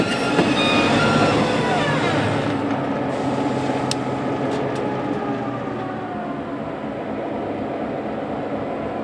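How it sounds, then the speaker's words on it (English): A CSX freight train hauling tank cars and a caboose rolls steadily past at close range, a loud continuous rumble of wheels on rail with occasional high squeals, slowly easing in volume. "The train has just about reached Calumet lubricants."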